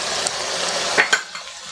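Spices being stirred into mutton keema and methi in a sizzling pan, a steady frying hiss with a couple of sharp spoon scrapes against the pan near the middle.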